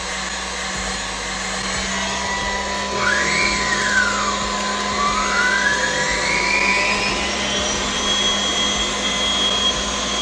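A stand mixer motor running at its top speed of 10 gives a continuous loud whir with a high whine that rises and sweeps for ten seconds.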